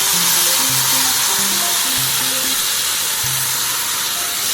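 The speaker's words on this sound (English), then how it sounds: "the moment you add the yogurt, you gotta keep stirring" Yogurt hitting hot oil tempered with cumin seeds sizzles and hisses loudly and steadily throughout, with faint clinks and low tonal background sounds beneath the frying.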